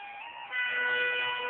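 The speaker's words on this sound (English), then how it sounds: "Here comes the train." A train's horn sounds at a foot crossing, a loud, steady multi-tone blast that swells louder about halfway through as the train nears.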